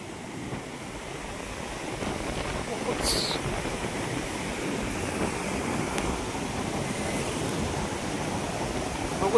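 Floodwater of the swollen Maan river rushes through an old weir with its gates removed, a loud, continuous roar of churning water that stays dense and unbroken throughout.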